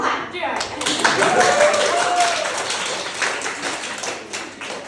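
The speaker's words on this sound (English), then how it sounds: "Clap, do it." Comedy club audience in Madrid breaking into applause, a burst of many hands clapping together with a few whoops and murmurs, fading gradually toward the end.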